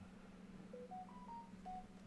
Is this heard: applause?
no